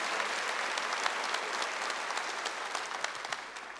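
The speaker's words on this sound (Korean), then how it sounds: "지금 박수 하세요." Congregation applauding during a Wednesday worship service at a church, a dense sustained clapping from many hands filling the room with no voice over it.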